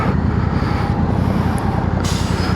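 Road traffic roars past a Honda Africa Twin motorcycle while riding, a dense continuous wash of engine and tire noise with heavy wind buffeting, loud and close throughout.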